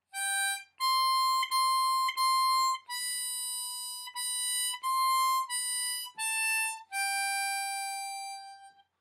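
Diatonic harmonica playing the opening line of We Wish You a Merry Christmas, a series of clean, separate single blow and draw notes, close and alone with no voice.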